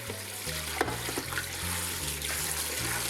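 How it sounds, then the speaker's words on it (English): Tap water runs steadily into a sink over raw oxtail, splashing and gurgling in the basin, with no one speaking. "And just put water over it."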